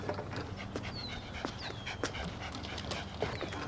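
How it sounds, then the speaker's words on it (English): A dog pants quietly and rhythmically while out on a walk, the faint breathing mixed with outdoor background noise and a few soft chirps. "I think I'll just walk the dog."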